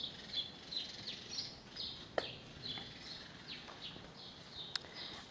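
Small birds chirp outdoors, giving scattered high, thin calls at a distance over a steady background hiss, with one sharper click along the way.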